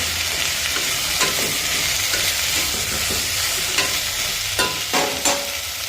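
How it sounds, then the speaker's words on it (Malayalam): A spoon stirs potato curry with turmeric in a frying pan, giving soft, repeated scraping strokes over a low, steady sizzle, with no talking. "അതിലേക്ക് സ്വല്പം മഞ്ഞൾപ്പൊടി ചേർക്കുക നന്നായി ഒന്ന് ഇളക്കി കൊടുക്കാം"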